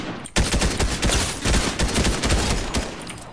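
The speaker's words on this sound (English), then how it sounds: "I think a guy behind us started shooting that shit." Rapid bursts of gunfire in the video game Fortnite, loud and dense, sustained nearly throughout after a brief quiet start, with fusillade-like overlapping shots and no talk.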